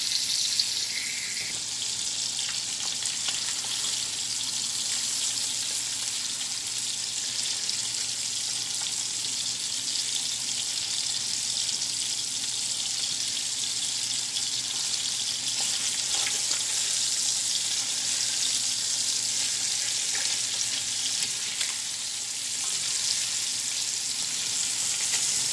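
Cod pieces fry steadily in a pan for a seafood stew, a continuous, even sizzle heard close up, with no talking.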